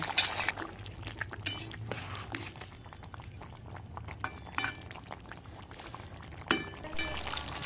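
Water poured into a pot of curry spices and cauliflower, then simmering with soft bubbling, faint clinks of utensils against the pot now and then in a quiet home kitchen.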